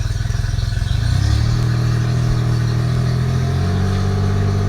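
An idling boat motor revs up, its steady engine drone rising in pitch and holding at higher RPM, loud and close with no talk.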